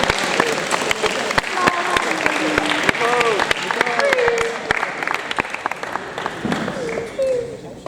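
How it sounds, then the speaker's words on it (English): Applause fills the hall at an award ceremony, continuous clapping from a crowd with whoops and chatter running through it, steady and fairly loud throughout. "So big round of applause for yourself."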